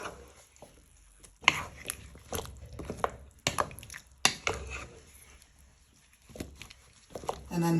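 A spoon stirs ingredients into pumpkin soup in a pot, giving wet squishing and clinking against the sides in scattered bursts with quiet gaps between.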